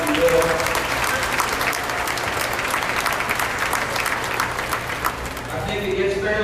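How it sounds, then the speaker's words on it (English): Spectators at a beef cattle show's grand drive give a long, hearty round of applause. The dense clapping carries on for several seconds, with voices audible near the end. "Let's give them all one more big round of applause, if you will."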